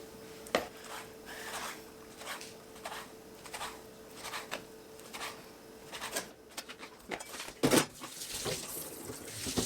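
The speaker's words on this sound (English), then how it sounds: "I'm just gonna wash my hands just because I touched the meat" Water runs from a kitchen tap while hands are washed under it, a soft continuous splash broken by irregular knocks and clatters in a quiet room.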